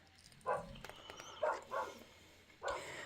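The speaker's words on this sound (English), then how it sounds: "Apologies for the dogs barking next door." Dogs barking next door, a few sharp, moderately distant barks coming in short bursts with quiet gaps between them.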